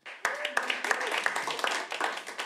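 Sparse audience clapping at a stand-up comedy show, a handful of separate claps and a brief smattering answering a show-of-applause question, with voices over it.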